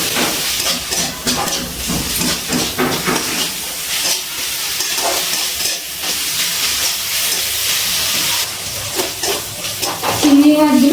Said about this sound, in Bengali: এবারে ম্যারিনেট করা চিংড়ি মাছটা ভেজে নেব